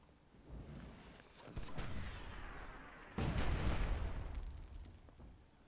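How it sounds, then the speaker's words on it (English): Mortar shots and fireball impacts in a Myth II: Soulblighter free-for-all tournament match: several booming, rumbling explosions, the loudest and longest landing midway and sustained for about two seconds before fading. "Nice mortar shot there from Garnish to kill that fireball."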